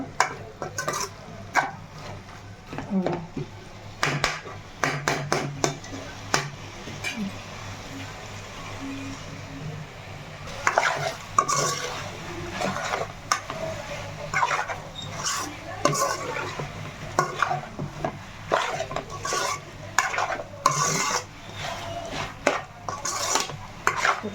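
Spoon scraping and clinking against a cooking pot while chicken curry is stirred, busy irregular metallic knocks and rubs close by, with a faint sizzle and occasional talk underneath.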